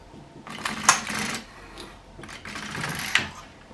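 An LK150 knitting machine carriage slides across the needle bed in two passes, each a close mechanical rattling sweep with a sharp click near its end, separated by a brief pause.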